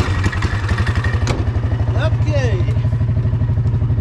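A 420cc engine in a Yamaha G2 golf cart chugs with a steady, close, rapid pulsing throughout, and a person speaks briefly over it.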